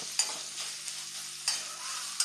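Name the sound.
onions frying and being stirred in a pan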